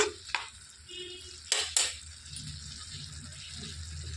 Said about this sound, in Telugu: ఇందులోనికి రుచికి సరిపడ ఉప్పు వేసేసుకొని ఒకసారి కలిపేసుకోవాలండి